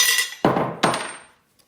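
Two sharp metallic hammer blows, roughly 0.4 seconds apart, strike a drift key to knock a guide pin out of a hex arbor. Each hit rings briefly and decays. The strikes are close and loud, with no talk.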